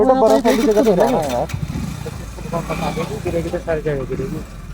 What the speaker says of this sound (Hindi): बाइक की तो हालत खराब असली यहाँ हो रही, बह बह कर रही, चढ़ाई है बिल्कुल खड़ी